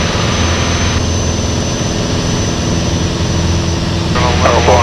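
Small airplane engine drones steadily on approach with full flaps and gear down, a loud, constant cabin hum with a faint pitch shift as power is adjusted, with a voice speaking over it.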